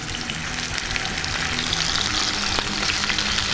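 Chicken tenders seasoned with salt and pepper sizzle in a sauté pan, a steady, close, bright frying hiss that runs unbroken throughout.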